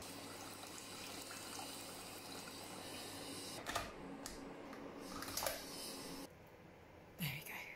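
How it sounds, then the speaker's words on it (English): A pet water fountain runs steadily at low level, a constant trickling wash of water filling the room, with a few brief handling knocks and rustles over it. "This is Marley's water fountain."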